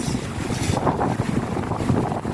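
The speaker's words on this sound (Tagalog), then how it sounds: "Ay, malakas dito ang hangin." Strong wind roars steadily across the microphone in Hong Kong under a typhoon signal 8, a constant gusty rumble with no voices, like standing exposed on a breezy waterfront.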